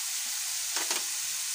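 Fish sauce splashes into a hot pan over a constant close sizzle, with a brief louder hiss and crackle near the middle.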